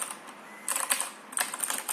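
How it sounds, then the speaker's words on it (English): Typing on a Rapoo V510 mechanical keyboard with blue switches, crisp clicky keystrokes arriving in two quick bursts with a short pause between, close and fairly quiet. "they call this the blue switches, which is good for typing"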